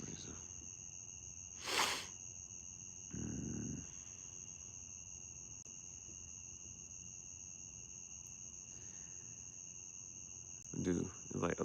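Crickets chirp in a steady high-pitched drone at night, continuous and fairly faint, with a few brief louder noises and bumps breaking in at the start and end.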